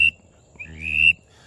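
A short whistled mallard drake duck call, a brief high peep followed by a longer rising whistle, heard close and alone against a faint low hum.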